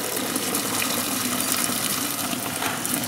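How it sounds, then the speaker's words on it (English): Chicken gumbo broth pours through a colander into a kitchen sink in a continuous close, loud gushing splash that lasts the whole moment without pause. "I'm getting ready to strain off this broth here."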